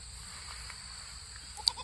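Young goat kids bleat on a farm, a short, faint cry near the end over a low background hum and steady high-pitched whine, with little else audible.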